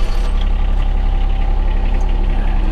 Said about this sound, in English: Let's get this tractor started up here.